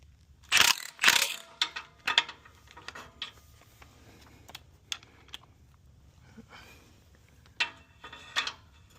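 Ratchet wrench and socket worked on the headers of a 6th-gen Camaro SS during a header install, giving a few short bursts of metallic ratcheting clicks, close and fairly loud, with quieter taps between.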